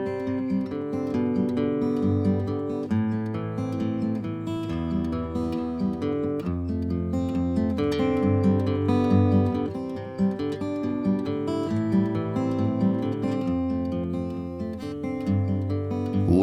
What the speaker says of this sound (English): an old 1910 Gibson F-hole jazz guitar